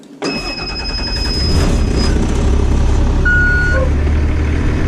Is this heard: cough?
no